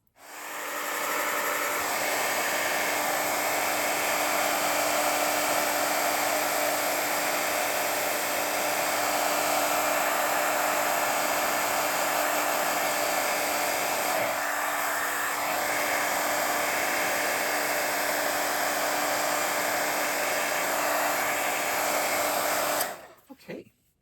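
Heat tool blowing hot air to set embossing powder on a Halloween crafting project, a loud continuous whirring hiss from start to finish that cuts off abruptly at the end.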